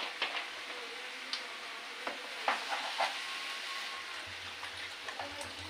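Water poured into a pan where cabbage and fish are cooking, giving a soft steady sizzle and hiss with a few sharp crackles and stirring clinks, close and fairly quiet.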